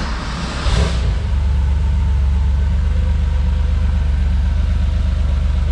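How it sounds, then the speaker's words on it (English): A 1984 Porsche 911 engine turns over and catches, then settles into a steady, loud idle with a deep continuous rumble held through to the end. "And here, I'll fire it up for you."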